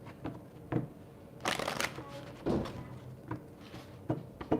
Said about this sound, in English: we're just going to kind of shuffle these cards